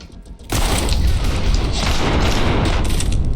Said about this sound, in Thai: ถังระเบิดรุนแรงขนาดนั้นเลยเหรอ